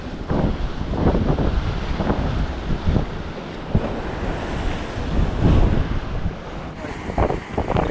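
Strong gusty wind buffets the microphone beside a coastal creek during fishing, a loud continuous roar with rushing surges, the water and surf faintly beneath it.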